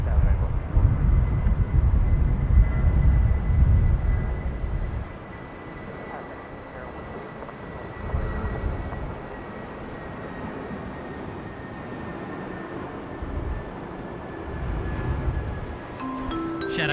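A Jetstar airliner climbing after takeoff from Sydney Airport, a loud, low engine roar at first that eases into a steady distant rumble, with a voice talking over it.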